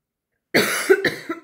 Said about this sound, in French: Désolée pour ma toux.